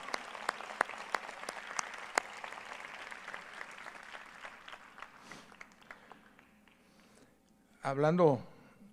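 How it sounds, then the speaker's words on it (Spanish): Audience applause for the organizers of a summit, a broad wash of clapping that fades out gradually over several seconds before a voice begins speaking near the end. "Les pediría por favor un aplauso para los organizadores de la cumbre, Ekaterina."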